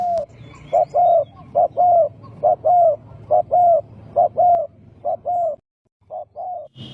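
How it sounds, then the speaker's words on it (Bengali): A native common dove calls in a steady series of about a dozen soft, mellow coos. The coos come close and clear over a low background hum, with a short pause before the last few. "আমাদের এই দেশি আম ঘুঘুর বিশেষ কিছু বৈশিষ্ট্য না থাকলেও এদের আছে মিষ্টি গলার ডাক।"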